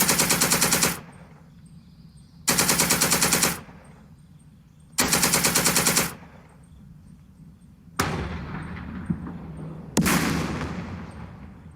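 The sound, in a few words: defensive gunfire in video game Second Front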